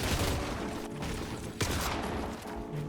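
Enemy gunfire in Fortnite, rapid bursts of shots with a few sharper cracks, fairly close and loud, with no talk over them.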